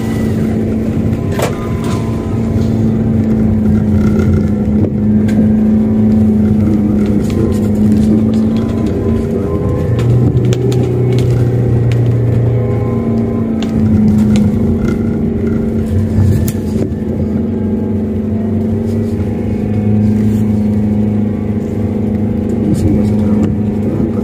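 Car engine pulling uphill in first gear at night on a dark, rainy, foggy road in Bali, a steady loud drone with shifting low tones throughout, under faint talk.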